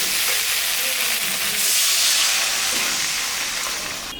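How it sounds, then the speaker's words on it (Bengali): Water poured into a pan of fried spices for a rohu fish curry with potatoes sets off a loud, steady sizzle and hiss of steam that rises then slowly eases. "মশলাটা ভাজা হয়ে গেছে, এখন আমি জল দিয়ে দিই।"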